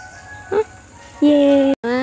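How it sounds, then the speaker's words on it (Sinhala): An ice cream truck playing its chiming jingle, first faint and distant, then a brief melodic burst close and loud after a pause, with a voice heard early on. "අයිස්ක්‍රීම් වාහනයකුත් එනවා ඇතින්."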